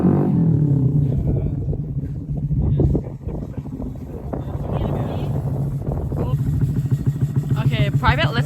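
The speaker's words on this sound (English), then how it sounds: "get going with our motorcycle" A motorcycle engine drones steadily as the bike rides off, a low buzzing rumble with wind noise over the microphone while people talk loudly over it.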